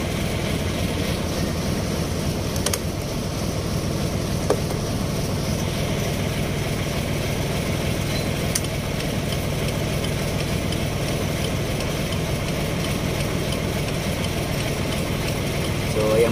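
A car engine idles at low RPM after an alternator replacement, a steady even hum running unbroken, with a couple of faint clicks.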